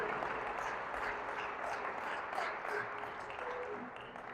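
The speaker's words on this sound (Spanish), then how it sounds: "Denle un fuerte aplauso al Rey de Reyes" A church congregation claps in sustained, dense applause, a quiet and even wash of many hands with faint voices mixed in, heard from a distance.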